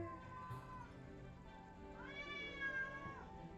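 One long, wavering meow from an older cat, quiet and a little distant, heard over a constant low hum.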